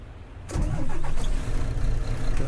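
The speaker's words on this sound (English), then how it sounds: "Right, let's get the engine on." A coach bus engine in Fernbus Simulator cranks and catches after a quiet half second, then settles into a loud, steady diesel idle with a few rattles, with no one talking.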